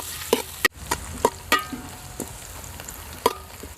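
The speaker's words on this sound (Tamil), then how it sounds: "இது நல்லா கோல்டன் ப்ரௌன் கலரில் வர வரைக்கும் வதக்கிக்கலாம்." Ingredients are sautéed until golden brown in a pan over an outdoor village fire while making mutton dum biryani. A spoon scrapes and clinks against the metal in irregular strokes over a faint, steady sizzle, with no talking.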